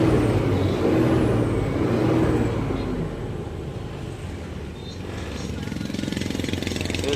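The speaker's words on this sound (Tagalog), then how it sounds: "Kanina hindi nasipol ang turbo, ngayon nasipol na." A Fuso 6M70 truck diesel runs steadily with a continuous loud rumble and a thin turbo whistle above it. It eases slightly after a few seconds and stays constant to the end.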